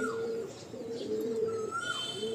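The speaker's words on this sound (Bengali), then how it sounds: "খুব সুন্দর কোয়ালিটির একটা মাদি পায়রা, ব্রিডিংয়ে আছে।" A breeding female pigeon, a good-quality hen now carrying an egg, coos in low repeated phrases, close and steady for the whole stretch, with soft chirps above.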